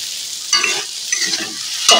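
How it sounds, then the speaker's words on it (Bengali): A turmeric and tomato spice mix sizzles in a pan as a spoon scrapes and stirs it, with short bursts of frying hiss and scraping close by and no talking. "দেখুন মশলা ভাজাটা দেখুন এইভাবে ভেজে নেবেন"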